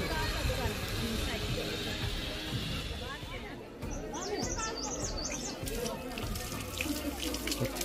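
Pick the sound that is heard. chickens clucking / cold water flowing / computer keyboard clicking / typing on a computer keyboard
cold water flowing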